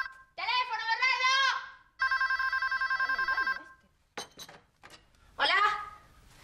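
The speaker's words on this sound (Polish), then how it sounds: "Telefon, Bernardo!" An old-style telephone bell rings in bursts, loud and close, with a sustained electronic trill between the rings and a clink of glass or dishes in the pause.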